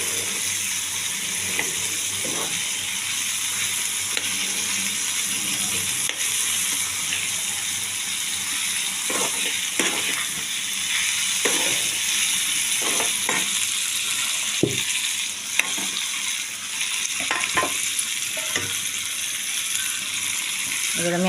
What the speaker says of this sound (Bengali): এই পেস্টটা আমি তেলের মধ্যে দিয়ে দেবো